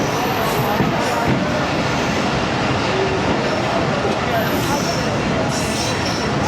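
The Allama Iqbal Express passenger train runs with a loud, continuous rumble and rattle of wheels on track, heard from aboard, with faint squeals and voices mixed into the roar.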